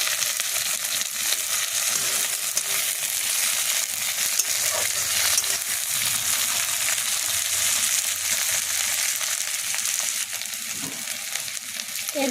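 Tomato frying in a pan with garlic, ginger paste and spices for muri ghonto gives a steady, close, dense sizzle that runs unbroken throughout, with faint stirring scrapes.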